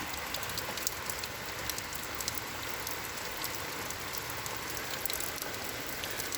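Heavy rain storm pours steadily outside an open doorway, a dense continuous hiss of falling water with scattered close drips and splashes, no voices.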